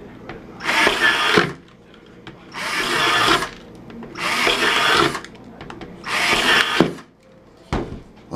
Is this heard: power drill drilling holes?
yes